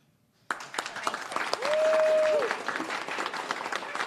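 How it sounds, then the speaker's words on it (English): A crowd breaks into dense applause at a press event about recovered wages for underpaid workers, with clapping starting abruptly after a brief silence and a high whistle and cheers cutting through the middle. "Another round of applause for Elizabeth Hernandez, La Luchadora."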